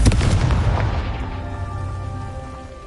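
A Confringo fire spell blasts in Hogwarts Legacy, a loud booming burst that hits at once and then rumbles and fades over a few seconds with no voices.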